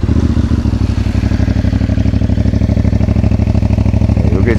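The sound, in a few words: CFMOTO 450MT motorcycle stock engine idling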